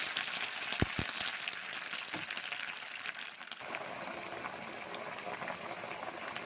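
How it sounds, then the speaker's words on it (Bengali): Water poured into a hot pan of peas makes a couple of sharp knocks, then a continuous, fairly loud bubbling and hissing that keeps going. "আর জল দিচ্ছি, না হলে মটরশুঁটিগুলো গরম তেলে থেকে কড়াই থেকে পড়ে যায় নিচেতে।"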